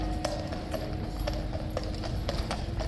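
A Household Cavalry mare's hooves clip-clop on hard ground as she approaches, an evenly spaced run of sharp close strikes over steady outdoor noise.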